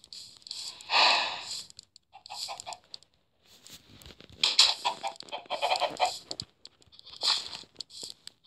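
Chickens in a video game cluck in bursts with pauses between, fairly close and moderately loud, alongside soft pattering and rustling sounds.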